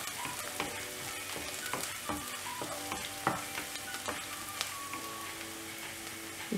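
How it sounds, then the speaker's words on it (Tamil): Garlic and curry leaves sauté in a hot pan with a steady crackling sizzle, while a spoon stirs and clinks against the metal in scattered sharp taps, close and alone without speech. "பூண்டு நல்லா வதங்கினோடனே கருவேப்பிலை ஆட் பண்ணிடலாம். ஆட் பண்ணிவிட்டு இதை நல்லா வதக்கி விடணும்."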